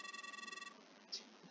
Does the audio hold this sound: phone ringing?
yes